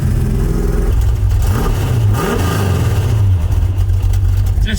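A 1965 Ford Mustang V8 sits at a stop sign, its loud, deep idle rumbling close to the microphone and swelling into a quick rev before settling back into a heavy, throbbing burble.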